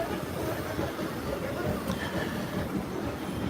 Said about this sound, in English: The train is running right parallel with me.